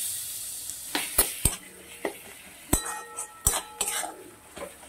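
Crushed garlic paste hits frying onions for a mutton curry, giving a soft close sizzle punctuated by sharp clinks of a spatula against the pan.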